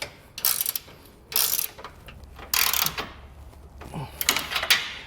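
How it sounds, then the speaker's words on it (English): A torque wrench tightens base plate hardware with several bursts of rapid, close ratcheting clicks separated by brief pauses. "with a torque wrench I'm going to go back and torque these all down properly"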